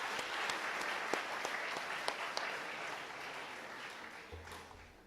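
Crowd applause for students at an achiever award ceremony, a steady dense clatter of many hands clapping throughout, with a brief low hum near the end.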